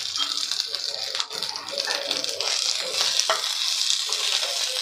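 Onion, garlic, ginger, chili, mint, coriander and spinach fry together in a pan, giving a steady hiss and sizzle broken by a few scraping stirs.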